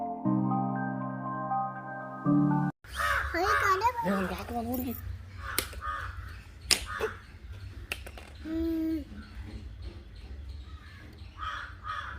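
Crows caw in a few harsh calls while children chatter and play nearby, after a brief tonal musical intro at the start.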